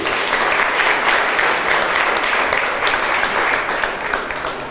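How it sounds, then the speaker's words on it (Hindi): An audience at a gathering with a Jain monk present breaks into loud, sustained clapping that fills the room evenly for several seconds, dense and steady without speech. "तालियां तो बजा दो इनके लिए।"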